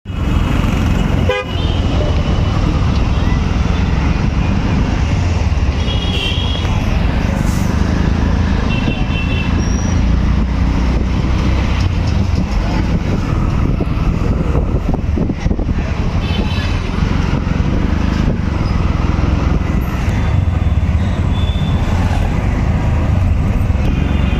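An auto rickshaw rides through busy road traffic on Station Road in Naya Nagar, its engine and street noise loud and constant, with repeated car horn toots throughout.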